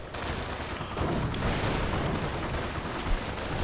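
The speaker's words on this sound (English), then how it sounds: "So good firing going on over here." Sustained gunfire crackles through a real-time strategy battle, dense overlapping rifle and machine-gun volleys with occasional heavier booms, loud and continuous for the whole stretch with no talk.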